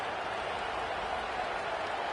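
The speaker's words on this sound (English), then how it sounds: "this crowd is coming to help the defense. Deafening noise." Stadium crowd noise in a college football video game, a steady, dense roar of cheering that stays even and loud throughout.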